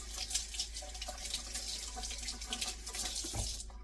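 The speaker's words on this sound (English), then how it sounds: "Let me rinse my hand." Kitchen tap water runs steadily into a sink while a hand is rinsed under it, a close, continuous splashing stream with small flicks of variation and no talk.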